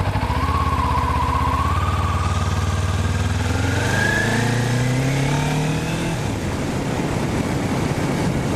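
Kawasaki Ninja 400 motorcycle engine rising in pitch as the throttle is twisted while riding, a loud, steady harmonic drone climbing over several seconds before settling into a rougher cruise with wind noise.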